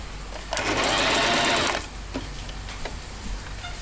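A Singer 3232 sewing machine runs a short burst of stitching lasting just over a second, loud and close, followed by quieter handling clicks and faint room noise.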